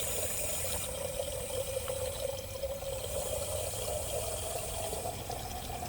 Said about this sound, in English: now that you've got your 12 ounces, you're going to fill the rest up with water.